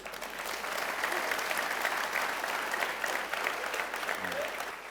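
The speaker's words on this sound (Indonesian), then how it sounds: "tepuk tangan untuk Sujiwo Tejo yang baru saja mengkudeta saya" A studio audience on an Indonesian talk show bursts into sustained applause for Sujiwo Tejo, thick steady clapping from a sizeable crowd heard fairly distantly.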